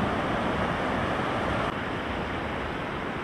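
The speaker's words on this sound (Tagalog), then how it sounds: "grabe lakas ng alon dito." Strong ocean waves at a beach resort in Moro produce a constant, loud wash of surf, mixed with rushing wind buffeting the microphone.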